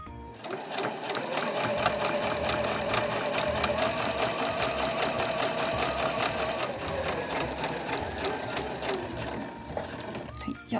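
A sewing machine stitches steadily along the fabric edge of a granny bag, its rapid rhythmic needle clatter running loud and continuous for most of the stretch before stopping near the end.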